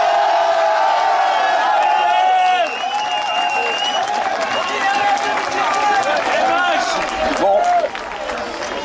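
A large outdoor crowd at a night-time public square protest gathering claps and cheers, with whoops and voices rising through a continuous, busy wash of applause.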